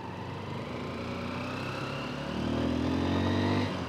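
A motorcycle engine idles steadily after a choke start while it warms up on a Vietnamese street in Ninh Binh. It holds a continuous mid-pitched rumble that grows slightly louder and fuller near the end, with no talking.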